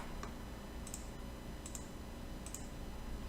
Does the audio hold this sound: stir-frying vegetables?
no